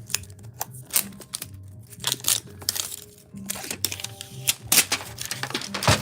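Toy packaging being wrestled open: irregular plastic crinkles, clicks and snaps in uneven bursts close to the microphone, with no speech.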